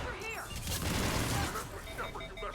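Rapid weapon fire in a space video game, a dense burst of synthetic shots and booms over about a second, with electronic chirps around it and someone talking over it.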